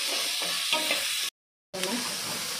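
Capsicum sizzles loudly in a hot pan with occasional stirring scrapes, cut by a brief silent gap before the steady frying hiss resumes.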